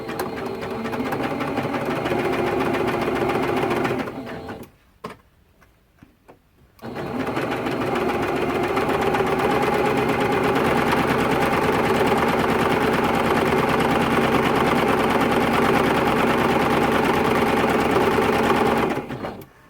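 A sewing machine stitching a seam on a T-shirt quilt top, a steady rapid mechanical whir that stops briefly for a couple of seconds, then resumes and runs evenly to the end.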